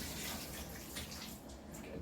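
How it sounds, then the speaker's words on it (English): A kitchen tap runs as water is drawn for cooking ragi porridge. The flow gives a steady, fairly quiet splashing rush that carries on throughout without pause. "Okay, so I got to get some water."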